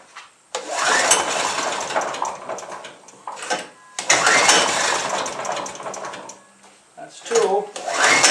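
The petrol engine of a DR Leaf Vac is pulled and sputters in two rough bursts of revving, each dying away, close and loud, with a voice speaking briefly between attempts.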